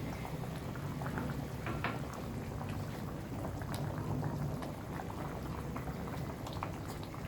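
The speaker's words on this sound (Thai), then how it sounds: "เคี่ยวอีกนิดให้สับปะรดออกฉ่ำหน่อย" A pineapple curry with tilapia simmering in a pot, giving a soft, continuous bubbling that stays faint and even throughout.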